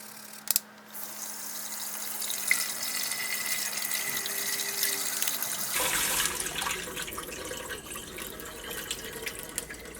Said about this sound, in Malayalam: ടാപ്പിൽ വരുന്ന വെള്ളം ഉണ്ടല്ലോ, ആ വെള്ളത്തിൻ്റെ അടിയിൽ കാണിച്ചിട്ട് ഒന്ന് നന്നായിട്ടൊന്ന് കഴുകിയിട്ട് എടുക്കുക